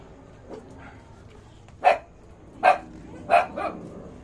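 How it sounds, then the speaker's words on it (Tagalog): Several dogs being fed outside a house bark in short bursts, a few sharp barks spaced out over a quiet background, moderately close. "maririnig nyo po kanya-kanya ng tahulan yung mga aso"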